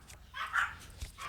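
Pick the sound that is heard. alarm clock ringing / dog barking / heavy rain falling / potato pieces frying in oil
dog barking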